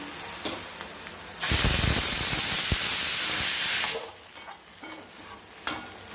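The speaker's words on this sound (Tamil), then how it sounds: "இப்போ வந்து தேங்காய் வந்து இந்த வானொலியில் வெறும் எண்ணெய் விடாமல் ஒரு பெரட்டு பரட்டிக்க போகிறேன்" Grated coconut dry-roasts in a pan without oil, a quiet light rustle interrupted by a loud, sustained spraying hiss lasting a couple of seconds before settling back to soft stirring scrapes, no voices.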